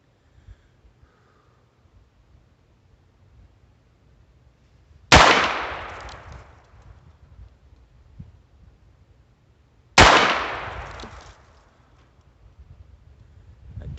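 Two sharp, loud revolver shots from a Heritage Barkeep firing Winchester white box ammunition, about five seconds apart outdoors, each cracking and then ringing away, with quiet in between.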